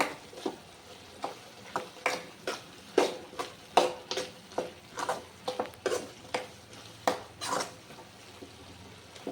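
Ground masala stirred into goat liver frying in a pan: rhythmic scraping strokes of a spoon against the metal, about a dozen evenly spaced, over a low sizzle, close and clear.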